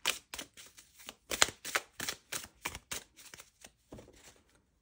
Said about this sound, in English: So let's take those out and give it a quick shuffle.